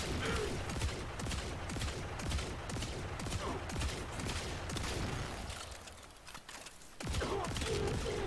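Catchmoon kitgun firing repeatedly in Warframe while testing against a heavy gunner, a rapid stream of sharp shots over dense game noise, pausing briefly before the firing resumes.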